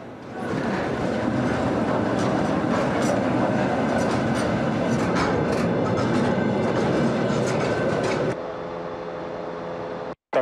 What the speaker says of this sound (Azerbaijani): Abşeron Logistika Mərkəzindən 20 konteynerdən ibarət ilk yük qatarı Gürcüstan istiqamətinə